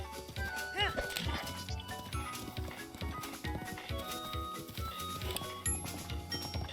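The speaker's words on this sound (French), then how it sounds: "Je déteste le cheval dans Zelda" A horse gallops in The Legend of Zelda: Breath of the Wild with rapid, rhythmic hoofbeats under game music and someone talking over it.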